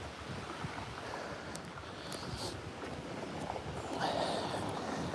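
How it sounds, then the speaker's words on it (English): Steady wind blows across the microphone on an early-evening walk by a lake, a constant broadband rush that swells slightly toward the end, with no speech. "Wind does not like me today, Liam."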